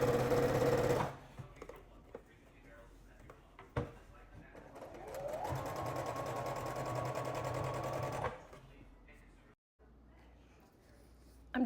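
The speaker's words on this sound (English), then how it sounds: "I've got this in my sewing machine. I've got the two outside edges facing each other, and we're going to sew all the way down the edge." A sewing machine stitching down the edge of a shirt runs in a steady, close mechanical whir with a rapid needle rhythm for several seconds, preceded by clunks and handling, with some quiet talk nearby.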